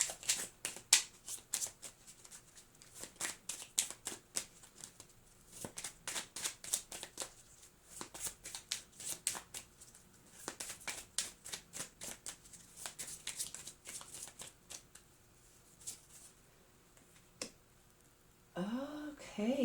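A deck of who, what, where cards shuffled repeatedly, a long run of quiet crisp card slaps and riffles in an uneven rhythm, with a brief voice near the end.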